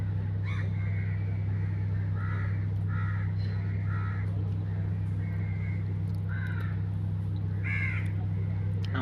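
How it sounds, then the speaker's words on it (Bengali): Crows cawing repeatedly in the Free Fire battle royale game, a series of harsh calls over a constant low in-game hum, with some faint talk. "আমার এই জায়গায় অনেক পাখি সাউন্ড হইতেছে"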